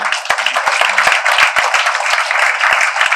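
Close, loud clapping from a small group at a Tamil cinema event, dense and slightly uneven with sharp individual claps standing out.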